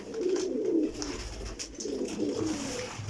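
Grey lakha pigeons, breeder and flying birds, give low throaty coos in two rolling bouts, close and steady over a faint background hum.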